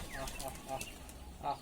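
Pigeons on a rooftop give a few soft coos and faint flutters, quiet and a little distant over a low background hum.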